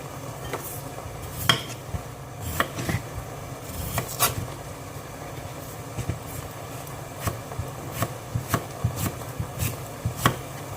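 A knife chops potatoes into small cubes on a cutting board, with a steady run of sharp, close taps spread irregularly over about eleven seconds against a low kitchen background hum.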